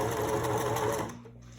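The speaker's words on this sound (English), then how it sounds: "So I'm only going to sew to about right here." Sewing machine stitching a fabric mask, a brief rapid mechanical whirring run of needle strokes that slows and stops after about a second, leaving a faint motor hum.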